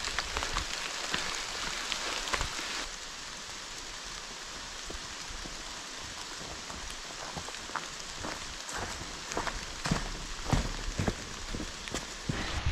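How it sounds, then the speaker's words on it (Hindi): Heavy rain pours down steadily in a deep forest at night, a dense hiss of drops striking leaves and ground, with louder splashes now and then. "यहाँ पे बारिश बहुत तेज़ हो गई है"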